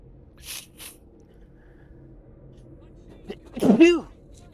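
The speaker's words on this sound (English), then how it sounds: "That was a sneeze." A single close, loud sneeze bursts out near the end after a quiet stretch with a couple of faint soft sounds earlier.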